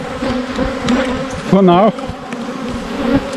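Bees buzzing close by around two destroyed beehives, a continuous droning hum with a louder, wavering buzz passing near the middle, and a short spoken phrase heard briefly.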